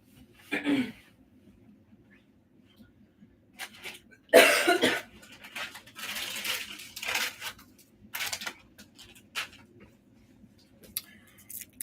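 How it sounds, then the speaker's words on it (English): Several harsh coughs in bursts, close and fairly loud, separated by quiet pauses and some faint rustling and clattering handling noises. "I've been coughing all day."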